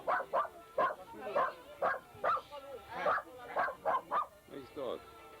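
A dog gives a quick run of short, fairly quiet barks and yips close by, in a choppy, irregular rhythm.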